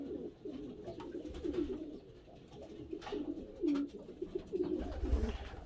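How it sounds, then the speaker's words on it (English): Pigeons coo softly in a shed full of mixed spare birds, with repeated low burbling calls and occasional wing flutters that come through fairly faint and close. "This is just a mix of spare birds in here."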